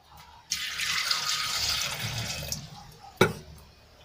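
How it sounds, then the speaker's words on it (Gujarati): Water pours steadily into a metal pressure cooker for about two seconds, then tapers off, followed by a single sharp clank near the end. "એમાં આપણે એક ગ્લાસ જેટલું પાણી એડ કરી લઈશું"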